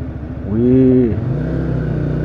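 Four-cylinder 250cc Italjet Buccaneer 250i motorcycle engine revs up briefly then settles back to a steady idle, loud and close.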